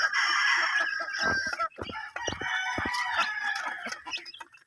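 Rhode Island Red chickens clucking busily while a rooster crows loudly up close, with scattered sharp pecks and scratches among the farmyard calls.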